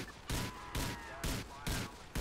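Five evenly spaced bursts of gunfire in the video game GTA IV multiplayer, each a loud broad crack lasting a fraction of a second, fired at a steady rhythm.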